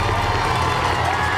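A large crowd cheers and roars steadily near the Boylston Street finish line of the 2014 Boston Marathon as runner Meb approaches, a dense, loud wall of shouting and whoops without a break.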